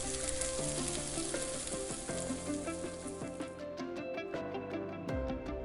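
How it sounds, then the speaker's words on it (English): Stuffed crust pizza ravioli fresh from a 375-degree oven sizzles and crackles steadily, a close, continuous hiss with small pops and no talking. "Sizzling there."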